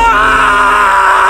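A piercing scream sound effect for a witch vanishing in a column of smoke, loud, shrill and sustained for over a second, with no talk.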